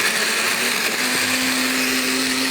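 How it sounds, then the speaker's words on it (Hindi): A kitchen blender grinds brownies into a coffee brownie shake with a loud, steady whirring drone and a sustained motor whine throughout, alone without voices. "इसको थोड़ा ग्राइंड ज़रा ज़्यादा करें"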